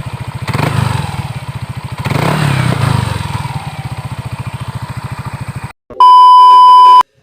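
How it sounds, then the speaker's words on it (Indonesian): A Yamaha NMAX scooter with an aftermarket exhaust idles close by with a loud, rapid putter, swelling twice as the throttle is blipped, then cut off by a sharp steady electronic beep. "Oke, untuk suara knalpotnya kayak gini teman-teman."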